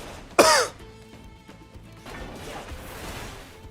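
One sharp, loud cough bursts out near the start and is followed by quieter throat clearing and low rustling.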